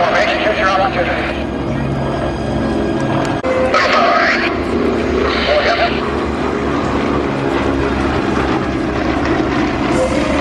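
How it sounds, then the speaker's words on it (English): Yak aerobatic airplane tumbling end for end during an airshow display, a loud continuous propeller engine drone with surging pitch, heard alongside a public address commentator talking over it. "Ross Granley tumbling the airplane end for end over top."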